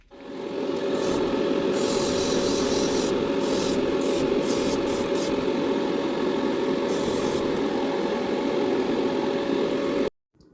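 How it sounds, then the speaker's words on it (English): A steady hissing spray of gray paint from an airbrush onto a model's floor pan runs continuously for about ten seconds, with a few brief bursts of brighter hiss, then stops suddenly. "after spraying the gray paint over the bottom of the floor pan"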